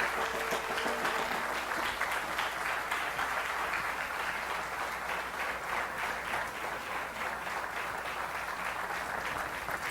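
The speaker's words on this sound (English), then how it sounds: "I would like you to give one big round of applause for our last presenter, Chief Snyder." Sustained applause from a crowd, steady clapping throughout with no break.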